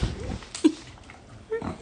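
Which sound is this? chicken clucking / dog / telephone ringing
dog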